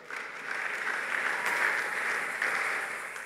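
A church congregation claps steadily as a man makes his way to the microphone, a dense, even round of applause that swells slightly and holds for several seconds.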